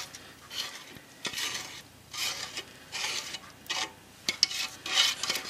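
A spatula scrapes hot English toffee from a pan in repeated rasping strokes, about six distinct passes with brief metallic clicks, close and moderately loud with no talk.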